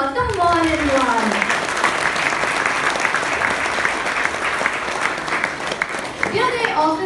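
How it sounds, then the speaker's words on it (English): Audience applause at a corporate event in Karjat, a dense, steady clapping crowd filling the whole stretch, with a voice talking over it at the start and end. "I want you all, everyone, each person, to give a huge round of applause"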